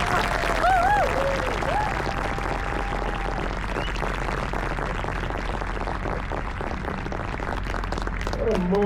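Audience applause after a live performance at a Washington D.C. capital show, steady dense clapping from a crowd throughout, moderately loud with a brief whistle near the start and a voice faintly heard over it.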